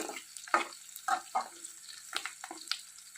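Drumsticks frying in a pan with curry leaves, giving a soft, steady sizzle broken by brief clattering stirs and scrapes. Faint, close, and with no talking.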